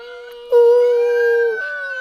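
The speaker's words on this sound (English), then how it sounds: "This is just me and my dog singing together." A dog howls in long, sustained, wavering tones alongside a person singing, close and loud, the howl rising and holding steady for over a second.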